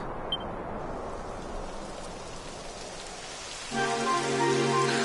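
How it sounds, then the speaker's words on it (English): Steady rain in the video game Dragon Quest XI patters across a surface, soft at first, then a louder, fuller rush of rain with a tonal hum joins in near the end. "It would have to go and start raining, wouldn't it?"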